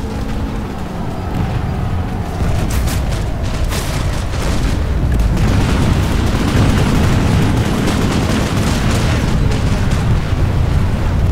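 Continuous loud rumbling booms and bursts of gunfire from shooting at tanks in the PlanetSide 2 video game, a dense battle din that carries on without pause.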